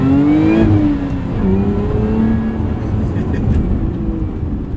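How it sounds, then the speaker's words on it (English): 2024 Lotus Emira with a 6-speed manual, heard from inside with its supercharger whine rising and falling over a loud engine drone as it accelerates and shifts. "All that supercharger whine right behind your head. Right there."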